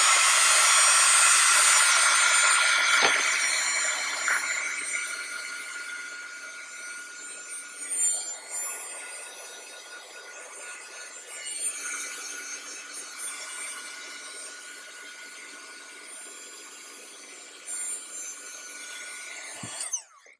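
A heat tool blowing over inked paper in a craft project gives a steady, loud whooshing hiss that holds for the full stretch and eases slightly midway, with no one talking.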